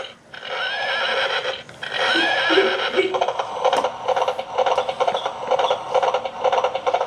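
A horse whinnies in a long, wavering neigh near the start, then a steady run of rhythmic clip-clop hoofbeats carries on, loud and close, with no voices.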